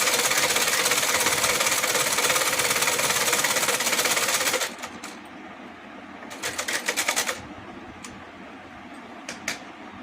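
A sewing machine stitching a straight seam on a belted salwar runs loud and steady at first, then stops, followed by short bursts of clicking and handling.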